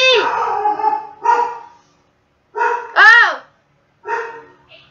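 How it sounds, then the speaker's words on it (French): A dog barks, yelps and howls in loud, close bursts separated by short silences, with a rising howl in the middle, and a woman exclaims briefly. "Désolée, c'est mon chien. Je sais pas si vous l'entendez"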